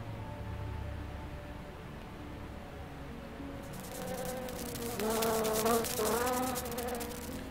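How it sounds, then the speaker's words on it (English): Insects buzz on the top floor of a building in The Tesla Effect video game, a faint steady drone at first that swells into a louder, wavering swarm of buzzing toward the end. "I did say that the bugs become a bigger problem on the top floor"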